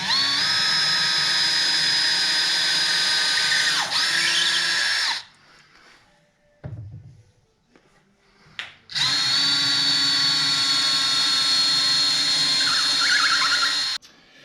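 Power drill with a tape-marked bit boring shallow half-inch holes while installing a Foosgadgets game system; two loud, steady whining bursts of several seconds each, separated by a short pause with faint handling noises.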